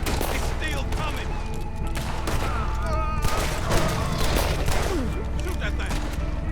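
A rapid volley of gunfire in the Red Dead Redemption 2 video game, loud and close, with overlapping shots crackling over a dense, busy game soundscape while voices talk in the background.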